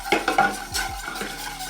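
A whisk scrapes and clinks in a pan as lukewarm whole milk is worked into a flour roux, with a few quick metallic taps and a soft stirring swish close by.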